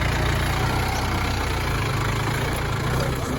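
A Yanmar YM357A tractor's four-cylinder, sixteen-valve diesel engine idles steadily with a low, even chugging rumble close by, unchanging throughout with no talking.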